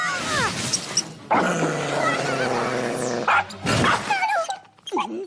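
A dog barks and yips in a cartoon, loud and close, several excited bursts mixed with whimpering and growling, alongside lively music and brief exclamations from cartoon voices.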